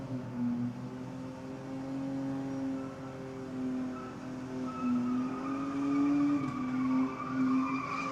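At a midweek burnout event at Sydney Dragway, a car holds a sustained burnout, its engine revving hard and wavering in pitch over a continuous loud screech of spinning tyres.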